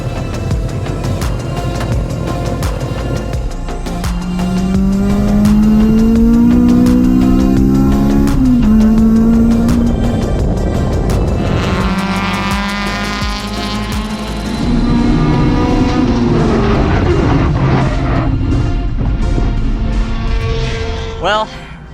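A K-swapped Honda Civic track car drives on a circuit, its engine revving up and down through the gears with a loud, sustained mid-pitched drone and rising sweeps; no talk is heard.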